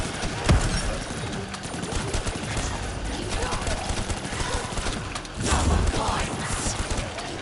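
Gunfire in Call of Duty Black Ops 3 Zombies on the Ascension map, a dense continuous rattle of shots with louder bursts, under game noise and talk.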